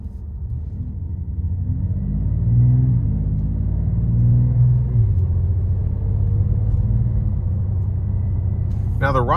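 Dodge Charger Scat Pack six-cylinder engine from a 2026 model, droning low and steady while cruising, with a broad rumble that swells slightly midway and continuous road noise underneath.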